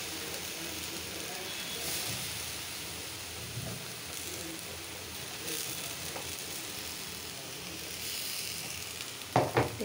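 Eggplant frying in oil rendered from rohu fish gives a steady, close hiss and crackle of sizzling that runs throughout, with a few sharp clatters near the end.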